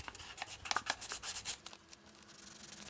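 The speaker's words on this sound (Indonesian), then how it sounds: "Diamplas ya teman-teman agar bentuknya bagus dan rapi." Quick scraping strokes of sandpaper rubbing on a small wooden popsicle stick, a rhythmic burst of rasping that slows and fades, close and fairly quiet.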